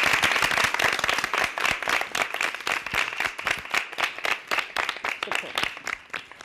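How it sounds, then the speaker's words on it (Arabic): A crowd claps steadily for children on a Kuwaiti TV show for kids, dense and lively at first, then thinning into looser, rhythmic applause. "اذا تصفيق حيل"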